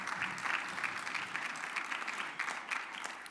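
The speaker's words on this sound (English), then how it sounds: "So give yourself a round of applause for coming here today." An audience at a keynote during a legislative business summit breaks into applause, a brisk, even patter of many hands clapping throughout the brief stretch.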